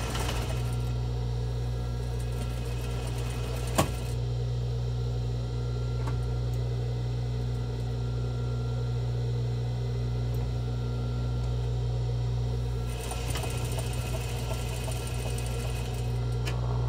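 A sewing machine runs steadily while top stitching around a fabric box-style face mask, a continuous close mechanical whir and hum with a brief stop and restart partway through, no voices.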